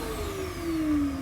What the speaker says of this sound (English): this is very quiet for a budget price vacuum cleaner